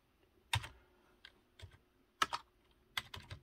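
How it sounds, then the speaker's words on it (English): Short bursts of typing on a computer keyboard close up, with several clusters of quick key clicks separated by brief pauses, heard alone in a quiet room. "I'm on a keyboard, so"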